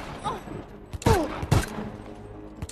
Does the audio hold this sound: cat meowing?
no